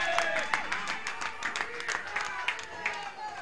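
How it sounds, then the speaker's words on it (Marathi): Crowd applause at a local cricket tournament match between Shree Ganesh Mandal and Parksite Packers, a dense steady clatter of clapping with sharper bursts, running throughout under a faint background voice. "जोरदार टाळ्या, जोरदार."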